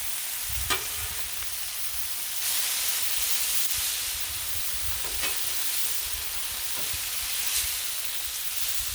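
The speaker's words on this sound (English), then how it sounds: "Hopefully you can hear me over the bacon splatter" Thick-cut pepper bacon sizzles and splatters on a flat griddle, a loud continuous frying hiss with occasional sharper pops and crackles, close by and uninterrupted by talk.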